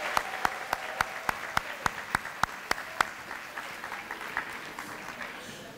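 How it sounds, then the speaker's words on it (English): Applause at an admissions acceptance night for an incoming college class, a crowd clapping steadily throughout. Sharp, evenly spaced claps from one nearby person stand out over the first half before the sound settles into a softer, even patter. "I would like you all to give yourselves a round of applause"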